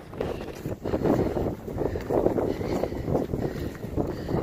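Gusty wind buffets the microphone on an exposed hilltop hiking trail at sunset, a steady loud roar that surges and eases in waves with no one speaking.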